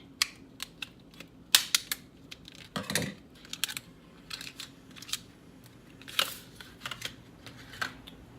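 Flimsy plastic packaging around a chef knife is cut open, producing a close series of sharp clicks, snips and crinkly plastic crackles at an irregular pace, with no voices.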